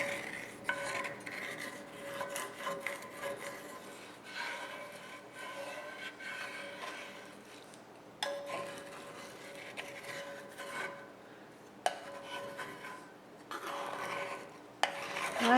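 A scraper rasps over stuck-on residue in a cast iron skillet, making a long run of close, gritty scraping strokes that stop briefly several times and then resume.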